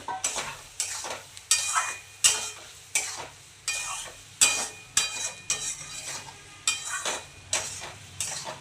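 Fried potatoes going into a pan with tomatoes and being stirred, with repeated scraping strokes of a spoon against the pan in a regular rhythm over a faint, continuous sizzle, close and fairly loud.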